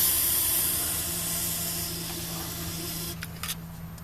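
An aerosol can of rust treatment sprays inside the frame of a 1978 El Camino, giving a steady, close hiss that eases slightly and then breaks into a few short sputters near the end.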